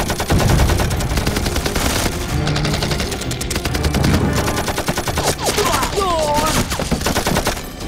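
Sustained, loud machine-gun bursts and rapid gunfire rattle through a wartime battle at a bridge, with a brief shout rising near the end.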